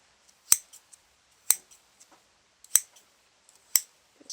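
Scissors snip through yellow slime four times at a steady, roughly one-second rhythm, each cut a crisp, close metallic click with a short squelchy tail.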